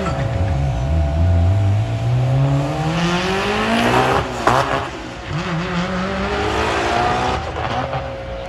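A Subaru Baja and a 2022 Tesla Model 3 race at a drag strip, engine and motor pitch climbing as they accelerate away, with a short tire chirp midway and a fading roar afterward.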